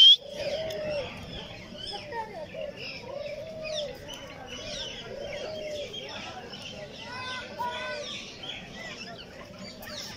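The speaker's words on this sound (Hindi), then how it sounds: "हर किस्म के परिंदे हैं इसके अंदर, बड़े बड़े भी है।" Inside a large walk-in aviary by a lake-view park, pigeons or doves coo in a repeating rhythm amid assorted chirps and calls from other birds, moderately close, with faint voices underneath.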